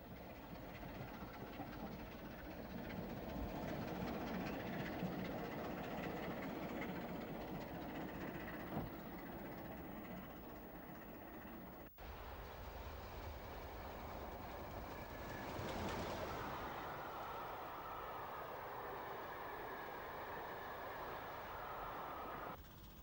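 Train running on the Southern line toward Honiton Tunnel on the westbound grade, with a steady rumble of wheels and carriages throughout and a brief dip midway before the noise swells again.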